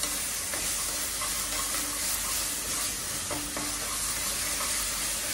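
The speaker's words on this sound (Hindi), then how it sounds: "तो 2 मिनट लहसुन को सॉटे करें" Garlic sautéing in a pan for momos, a loud, dense, steady sizzle with faint stirring taps and no voices.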